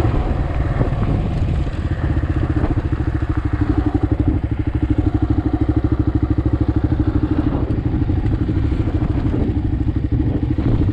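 Motorcycle riding along a canyon road near Vacaville, California, a loud, steady engine drone with rapid pulsing and wind rumble, close and continuous throughout.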